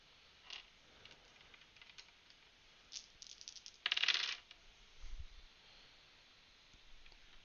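Six dice clatter and skitter across a surface for a tabletop roleplaying roll in a Changeling: The Lost game, a series of light rattling bursts with one louder tumble in the middle, close and otherwise quiet.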